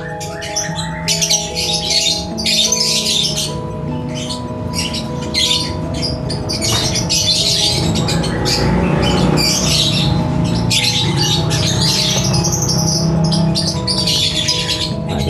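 A white-rumped shama chirps and whistles continuously in bright, rapid phrases, loud and close, over a low steady background hum.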